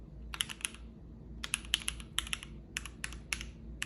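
Typing on a Keychron Q6 mechanical keyboard with brown switches, bursts of crisp clicky keystrokes in quick uneven clusters separated by short pauses, close and fairly quiet.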